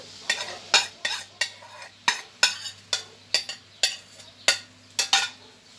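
Onions are stirred into a pot of soup with a spoon, giving a string of sharp, close scraping clacks at an uneven rhythm over a faint low hum, with no voices.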